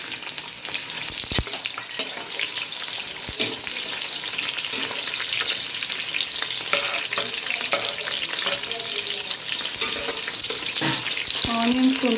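Cashews and onions fry in hot oil for a prawn pulao, a dense, steady sizzle running throughout with intermittent scraping and clatter of a spatula stirring the pan, no talking.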